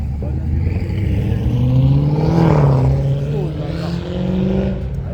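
Car engines rev at a car show in Albertville, where Corvettes are on display, rising and falling in pitch over a deep rumble. People talk nearby over the engine sound.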